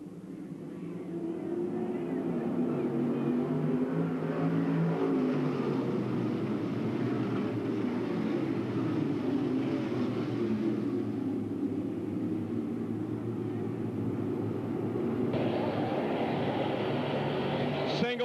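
Race cars at Bedford Speedway in 1995 accelerate after the green flag, a loud, sustained engine roar that holds steady across the track, with a commentator's voice over it.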